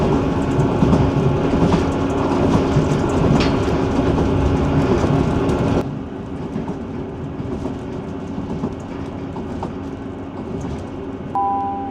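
A train runs along the Far North railway line between Inverness and Wick, a steady loud rumble with rhythmic clickety-clack from inside the carriage, dropping slightly quieter midway.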